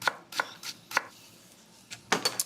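A knife cuts thin slices from a section of long daikon radish on a board, giving crisp, close taps in an irregular run of about seven or eight strokes with a short pause midway, no voices.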